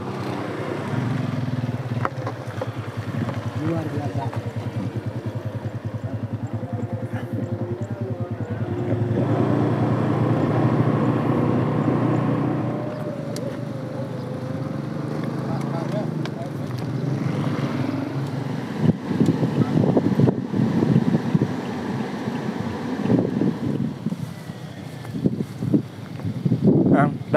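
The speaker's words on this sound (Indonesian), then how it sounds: "Kita naik motor sekarang." Riding a motorbike along a rural road past farmland: a steady low engine hum under heavy wind buffeting, with brief bursts of louder rushing toward the end and someone speaking briefly.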